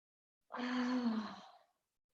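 A single slow, audible exhale during a seated chair yoga breathing exercise, soft and close, lasting about a second before fading into silence.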